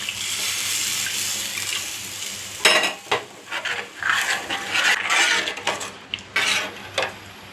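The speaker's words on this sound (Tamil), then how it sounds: "வேக வச்சோம் இல்லையா பருப்பு தண்ணி, கடலை பருப்பு தண்ணி, அதை ஊற்றிக்கலாம்." Cooked chana dal water poured into a pot of simmering amti for puran poli, a loud liquid splash and rush with sizzling and stirring clatter, starting after a few seconds of steady kitchen hiss.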